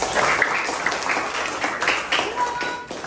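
A small classroom group applauds together, a continuous patter of many hands clapping at close range for a few seconds with a few louder individual claps standing out.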